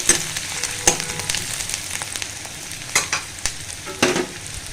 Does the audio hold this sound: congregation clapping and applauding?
no